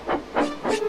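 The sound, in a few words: steam engine hissing out steam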